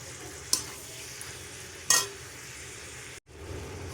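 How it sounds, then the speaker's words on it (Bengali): Chicken stomach being stirred in a pan with salt, ginger-garlic-chili paste and tomato, a steady low scraping and sizzle broken by two sharp utensil knocks, close and moderately loud, with no talking. "এবার ভালো করে আমি মিশিয়ে নেব সবগুলো"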